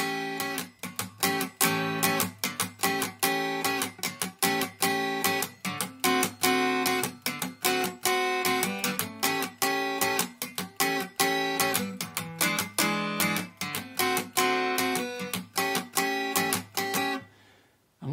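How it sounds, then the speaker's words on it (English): Rockabilly rhythm guitar is played in a chop-blues style, muted strums with sharp chord stabs in a quick, steady pattern, close and clear on its own, before ringing out at the end. "we're strumming, but we're kind of keeping the pressure off on our left hand until we want to play a chord"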